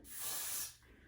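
A single short hiss of spray, about half a second long, applied close up to the hairline of an Outre melted-hairline lacefront wig during installation, then fading to near silence.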